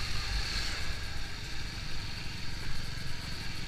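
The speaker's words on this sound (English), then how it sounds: "And give it a small amount of throttle, you see. Keep on giving. Beautiful pull." A carburetted motorcycle engine pulls under light, steady throttle in second gear, a continuous close rumbling drone with a slight mechanical clatter and no voices.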